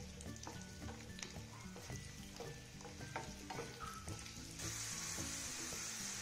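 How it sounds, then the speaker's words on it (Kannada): Garlic frying in oil for a spicy garlic chutney, a steady close sizzle and crackle with occasional stirring scrapes, growing brighter and louder toward the end. "ಈಗ ಇದೇ ಎಣ್ಣೆಯಲ್ಲಿ ಬೆಳ್ಳುಳ್ಳಿ ಚೆನ್ನಾಗಿ ಹುರ್ಕೊಳ್ಳೋಣ."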